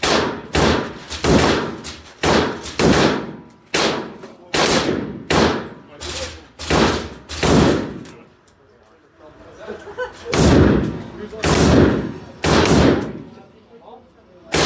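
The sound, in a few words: M249 SAW machine gun firing at a shooting range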